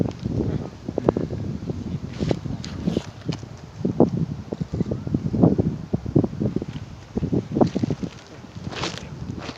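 Wind gusts at an outdoor paragliding site, buffeting the microphone with a continuous low rumble broken by rustling bursts, fairly loud throughout.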